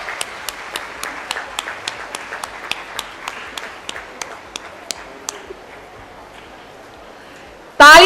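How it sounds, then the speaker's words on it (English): A large audience applauds guests at a university orientation day, a steady wave of clapping punctuated by sharp, evenly spaced claps that fades out before a sudden loud burst at the end. "Give a huge round of applause for our distinguished guest and our Honorable Vice Chancellor"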